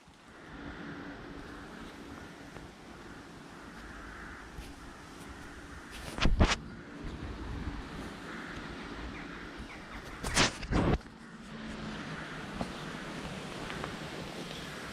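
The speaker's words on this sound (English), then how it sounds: "the wind's picked up so much that when I light all my candles, they seem to go out" Wind blowing outdoors at an evening bushcraft campsite makes a steady broadband rushing, with two brief louder gusts buffeting the microphone midway.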